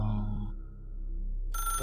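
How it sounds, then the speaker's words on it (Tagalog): Telephone ringing in the video game Control, a single electronic ring tone that starts abruptly near the end after low ambient game hum. "Telepono."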